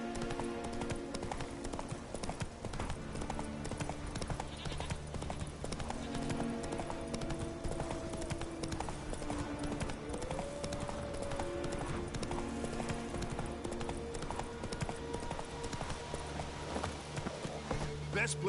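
Roach, a horse in The Witcher 3, gallops with rapid rhythmic hoofbeats throughout, close and steady, under game music with occasional voices.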